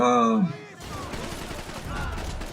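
Gunfire in the shooter game Max Payne 3 erupts as a rapid burst of shots, loud and close. It follows a brief tonal, voice-like sound and carries on as a rough, dense clatter to the end.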